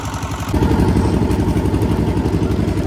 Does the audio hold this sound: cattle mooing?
no